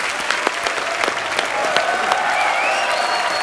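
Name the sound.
studio audience applause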